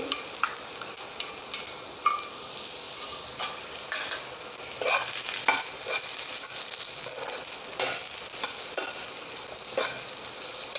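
Spices with a pinch of hing powder being stirred in a hot pan, a steady hiss of frying under repeated scraping strokes of a spoon, close and even throughout with no talking.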